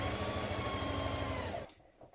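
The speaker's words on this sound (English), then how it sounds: "We're going to stitch around here, along the bottom and up this side." A sewing machine stitches around a shirt cuff with a steady, fast mechanical whir and needle chatter, close and loud, then stops abruptly near the end, with no talk.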